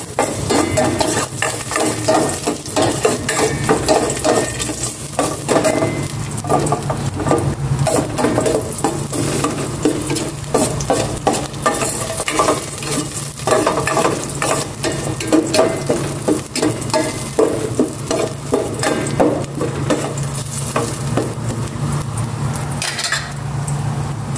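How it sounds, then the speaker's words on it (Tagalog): Garlic sautés in a pan for a beef caldereta, a loud continuous sizzle and frying hiss with frequent metal spatula scrapes and clatters against the pan throughout. "Ngayon naman, gisa na ko ng bawang."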